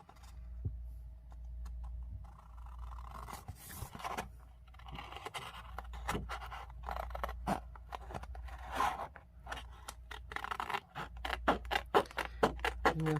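Scissors carefully cutting through scrapbook file folder paper: soft, close snips and scrapes that come slowly and unevenly at first, then quicken into a run of crisp cuts over low background hum.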